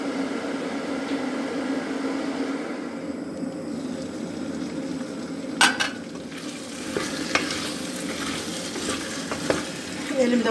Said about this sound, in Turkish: Suyumuz kaynayana kadar da kavrulsun bezelyeyle birlikte.